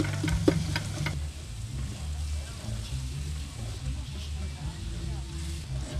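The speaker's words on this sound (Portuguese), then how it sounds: "Deixar dourar o sal com alho." Onion, salt and garlic frying in a pan, a low steady sizzle with a few clinks of a utensil early on, partly under a voice talking.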